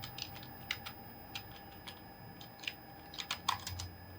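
Keys clatter on a computer keyboard while text is entered into an MS Word table. Quiet, close clicks come in irregular bursts, thickening into a quick run near the end over a faint steady hum, with no voices.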